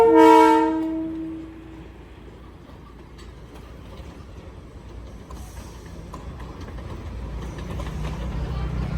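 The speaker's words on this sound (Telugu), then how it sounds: "వెనకాల వచ్చేది అయితే డీజిల్ ఇంజన్ ట్రైన్ చూడండి" A loud train horn blares at the start with stacked harmonic tones, then fades into the steady low rumble of a diesel train passing nearby at a Darjeeling railway station in the Himalayas.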